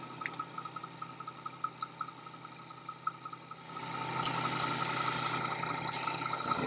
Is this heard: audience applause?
no